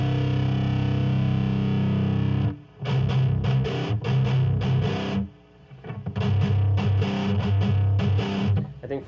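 Distorted electric guitar plays a pattern, a sustained chord followed by rhythmic palm-muted chugs and a let-ringing chord, loud and close with no voices.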